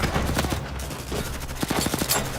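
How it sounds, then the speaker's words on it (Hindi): Rapid bursts of automatic gunfire from an action scene, loud and dense, with clustered shots near the end and no talk over them. "फायरिंग करते रहो।"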